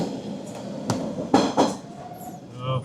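Rumble of a car shuttle train in Interlaken, Switzerland, heard from inside, with a few sharp clanks and knocks over a steady low roll, close and moderately loud.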